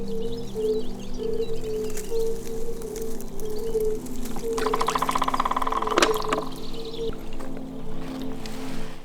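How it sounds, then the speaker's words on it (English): Water is collected from a source in the Chernobyl exclusion zone. A brief bubbling, gurgling pour into a container rises over a steady low hum and faint background chirps. "You have to collect water anywhere."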